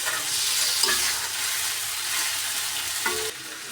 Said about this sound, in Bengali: আস্তে আস্তে এগুলোকে কষিয়ে নেবো ভালোভাবে, একদম ভাজা ভাজা করে নেবো।